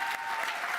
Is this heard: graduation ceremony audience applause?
yes